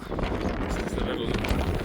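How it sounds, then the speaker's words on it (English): Gusty wind buffeting the microphone near a fishing village on a road trip, a heavy continuous rumble over the whole stretch, with a voice faintly mixed in. "I'm going to turn this off because it's windy, too windy"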